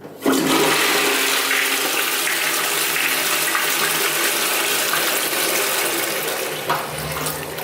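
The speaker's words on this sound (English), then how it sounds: "it has a rimless design that washes the toilet way better" A rimless toilet flushes with a loud, steady rush of water that runs for several seconds, then tapers off slightly near the end.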